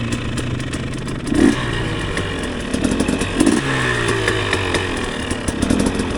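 A street-legal two-stroke motorcycle rides along with a buzzy, raspy engine drone, holding steady with several brief rev bursts and a crackling clatter, loud and close, with no talk.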